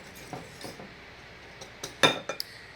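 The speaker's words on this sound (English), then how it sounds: "Probably don't need to use a whisk, but that's what we're doing." Whisk working banana bread ingredients in a bowl, a few sparse clinks and taps of metal against the bowl, close but fairly quiet, with gaps between strokes.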